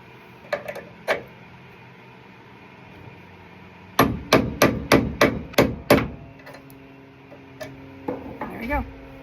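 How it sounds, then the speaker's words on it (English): A hammer strikes a drift to knock out a door hinge pin on a 1970 Plymouth Barracuda 340, with a few taps, then a rapid run of about eight sharp metallic blows, then scattered lighter hits, all close and loud. "be using the drift and kind of doing it at an angle"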